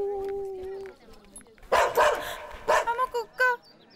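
In a Telugu comedy scene, a dog gives a quick series of short, loud barks and yips after a brief tonal sound.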